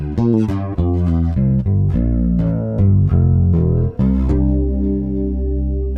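Bass guitar run through a modelled clone chorus pedal set to a slow rate and maximum depth, a loud, steady stream of low, shimmering notes with wide, slowly swirling modulation and occasional sharp plucked attacks.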